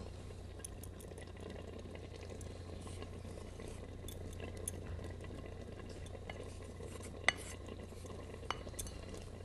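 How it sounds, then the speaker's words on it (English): Creamy natural palm cream being stirred into a cassava leaf dish in a pot, a steady soft scraping and sloshing with occasional sharp clinks of the spoon against the pot, fairly quiet and with no one talking. "And you stir it."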